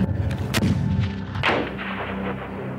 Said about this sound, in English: Once the grenade's gone off, I'm going to engage that target there.